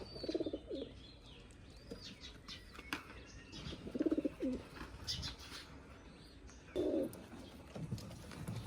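Pigeons in a farm coop give soft, low cooing calls in three short bursts spaced a few seconds apart, quiet and close, with faint rustling and light wing sounds between them.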